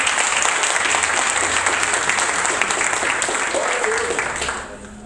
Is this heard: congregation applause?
yes